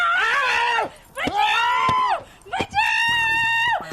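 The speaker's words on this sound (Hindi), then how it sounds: "चिल्ला क्यों रही है?" A woman screams in three long, shrill bursts separated by short breaths, loud and close, with sharp clicks and a brief low hum under the last cry.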